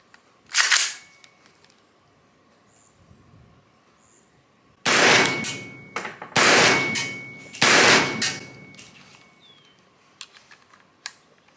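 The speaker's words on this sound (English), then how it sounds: "So I'll shoot 3 rounds." Three unsuppressed rifle shots, each a sharp, loud crack with a ringing tail, fired in a quick irregular cluster after a single earlier impact-like bang, outdoors with quiet between.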